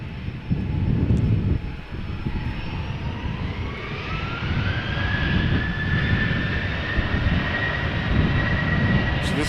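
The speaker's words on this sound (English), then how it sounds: "This is KLM flight 1147, Boeing 737-800 going to Oslo." A KLM Boeing 737-800 airliner departs Amsterdam Schiphol, its jet engines roaring steadily from a distance with a rising whine building through the long, continuous rumble.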